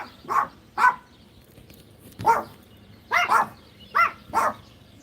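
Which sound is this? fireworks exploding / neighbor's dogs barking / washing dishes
neighbor's dogs barking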